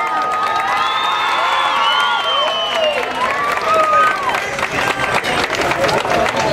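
Crowd at a wake for a boy greeting his mother as she arrives with white flowers; a dense, continuous murmur of many voices with cheering and some clapping throughout.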